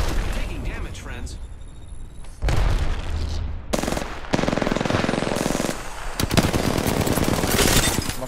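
Automatic gunfire from an Apex Legends match, rattling in dense bursts with loud, close volleys that swell and break off, mixed with other game effects and voices.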